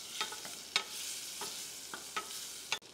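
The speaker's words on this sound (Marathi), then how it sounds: "ह्याला छान परतून घेऊ" Garlic sautés in butter in a pan, giving a continuous soft sizzle. A spatula scrapes and taps against the pan several times at irregular intervals.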